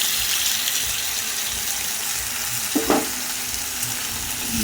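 Ginger-cumin paste with turmeric fries in a pan with a steady, broad sizzle, and a spoon scrapes and stirs once with a brief clatter, no talking.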